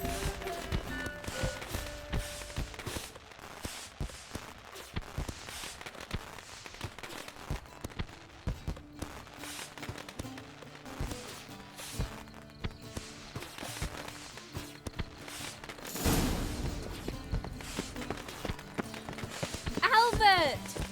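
Horse hooves clip-clop in a steady rapid rhythm in the video game Witcher 3, moderately close, with background voices talking over much of it.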